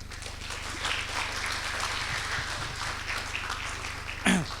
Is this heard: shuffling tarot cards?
no